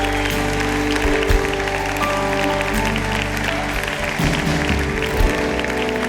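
A church congregation at a Gospel Sunday service in Milan applauds steadily and loudly throughout, a dense wash of clapping with a low hum and some instrumental tones underneath.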